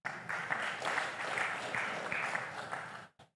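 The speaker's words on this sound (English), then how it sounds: "So let's clap for ourselves." A group at an Independence Day gathering claps for themselves after singing, a brisk, fairly close round of applause that stops abruptly after about three seconds, followed by a brief last clap.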